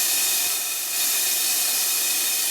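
Steady, loud hiss of steam venting continuously from a 5-inch gauge model of Stephenson's Rocket with its valves set wrong, blowing to exhaust; a broad rushing noise with a brief dip before resuming at full strength.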